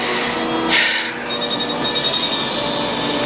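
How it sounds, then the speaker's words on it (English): A mobile phone rings loudly and steadily close by, its tone sustained across the whole moment with no voices over it. "is that my phone?"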